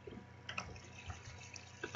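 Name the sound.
water being placed in Minecraft video game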